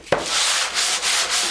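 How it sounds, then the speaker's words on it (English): Hand sanding on a wood practice piece gives a close, loud, raspy scrape in quick back-and-forth strokes, each pass a brief swelling rub with no voices. "What you're trying to do is get used to sanding"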